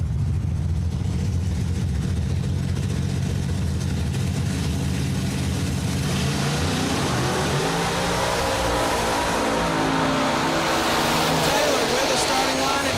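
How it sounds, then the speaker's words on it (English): Blown coupe launching down a drag strip at an old school bracket race, a heavy supercharged engine roar that rises in pitch as the car pulls away, loud and continuous, mixed with the crowd and the announcer's voice. "in the right-hand lane, that's Mr. Taylor Rich in the blown coupe"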